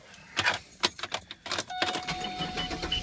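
A car's keys jangle in a few quick rattles before the ignition cranks and the engine catches and settles into a steady idle, heard close with no talking.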